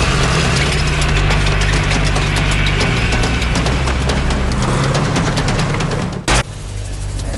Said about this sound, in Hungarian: A tankok motorzaját a hangmérnökök varázsolják a csatatérre.